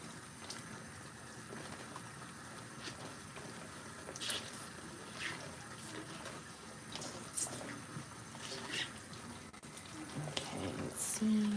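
Tap water runs steadily at low volume while a doll is rinsed in a sink late at night, with faint splashing and a few soft knocks.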